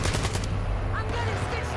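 Sniper gunfire in a video game opens with a quick series of sharp, loud shots close together, then fades into quieter game noise.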